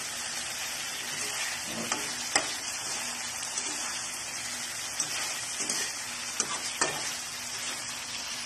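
Tofu is stirred through a chilli oyster sauce in a pan, giving a soft, continuous sizzle broken by several scraping stirs of a utensil. No voices are heard.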